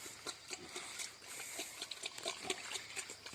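Two pigs kept on bare ground with straw bedding on a small low-cost pig farm grunt and snuffle repeatedly at close range, with shuffling and rustling in between and no talking.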